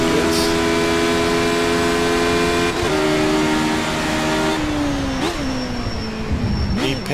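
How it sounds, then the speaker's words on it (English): Radical SR8 race car in iRacing, its engine droning steadily and loud with pitch dips on gear changes, small crackling backfires popping at each shift. "A little bit of backfire from the"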